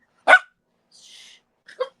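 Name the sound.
dog barking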